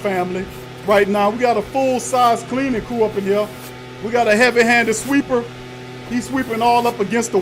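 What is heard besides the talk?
No everyday noises stand out.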